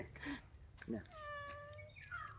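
A cat gives one drawn-out, wavering meow, faint and fairly close, with a couple of brief sounds before it in a quiet outdoor setting.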